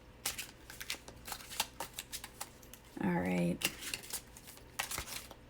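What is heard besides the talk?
shuffling tarot cards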